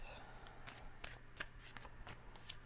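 A deck of tarot cards is shuffled in a quick series of soft riffling flutters and taps, close by and quiet.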